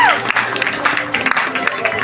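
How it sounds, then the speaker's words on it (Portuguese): Audience applause at a church evening event, steady dense clapping from a crowd with voices mixed in throughout. "nós temos aqui a nossa salva de palmas para ela"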